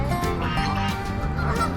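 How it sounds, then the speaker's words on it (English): A large, noisy flock of big geese honks and calls all at once, a loud, dense overlapping chorus close by. "a lot of them, and very noisy, especially these geese"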